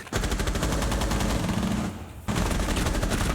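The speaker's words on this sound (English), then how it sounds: "Little gunfire in the hallway" Rapid automatic gunfire in Rainbow Six Siege during a 2019 US Nationals esports match, loud sustained bursts with a brief pause near the middle before the shooting resumes, no voices over it.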